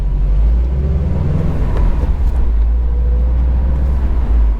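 A Subaru WRX STI heading onto a highway ramp, heard from inside as a loud, steady low engine drone and road rumble that hold without a break.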